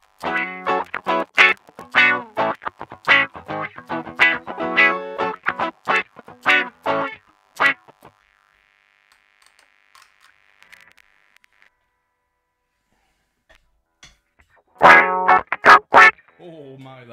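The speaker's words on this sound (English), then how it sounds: "Distorting like heck." Heavily distorted bursts from an effects unit, loud and choppy for about eight seconds, then near silence, then a short loud return near the end, with no talk.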